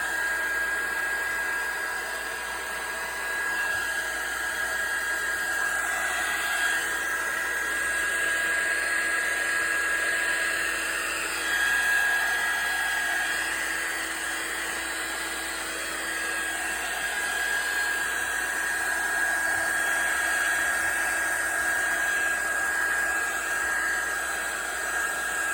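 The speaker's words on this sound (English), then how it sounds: "And I can also go in with a blower." A small blower runs steadily for the whole stretch, drying alcohol ink on a journal page. It makes a continuous, fairly loud whirring hiss with a constant high whine and no talking.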